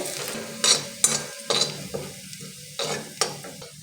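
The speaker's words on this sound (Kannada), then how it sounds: "ಒಂದು ಜಜ್ಜಿರೋ ಬೆಳ್ಳುಳ್ಳಿ ಹಾಕೊತಾ ಇದ್ದೀನಿ." Crushed garlic fries in oil in a pan for poha chivda, with a series of short, close bursts of sizzle and spatula scrapes, each fading quickly into quiet gaps.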